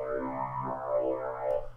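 A Reason Maelstrom synthesizer oscillator set to the vocoder swirls waveform drones with a buzzy, robotic, shifting harmonic tone throughout, moderately loud and alone.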